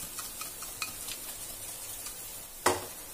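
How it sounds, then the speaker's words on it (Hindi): Chaat ingredients with salt, chaat masala, roasted cumin and black salt are mixed in a sizzling pan, with soft scraping strokes over a steady fry and one sharp metallic clack near the end. "सबको अच्छे से मिक्स कर देते हैं।"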